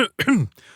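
A narrator's voice imitates a small cough: a couple of brief, close throat-clearing bursts that quickly fade.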